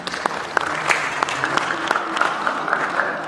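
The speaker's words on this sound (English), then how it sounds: "Can we give a great round of applause, please?" An audience at an industry conference on IP, technology, data and AI gives a round of applause for the panelists: dense, lively clapping with sharp individual claps standing out, steady throughout, while a voice is faintly heard underneath.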